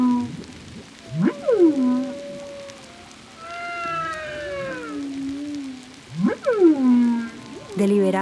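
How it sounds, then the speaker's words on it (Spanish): A humpback whale sings underwater, alone with no talking. The song is a series of rising whoops and long, sliding moans, with louder swooping calls near the start and the end. "los sonidos de las ballenas tenían estructuras internas y usaban rimas"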